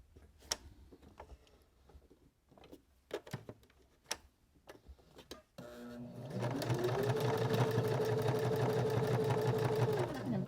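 Sewing machine back stitching through fabric for a DIY sewing kit, quiet handling clicks first, then a steady close whirring run of stitching for about five seconds.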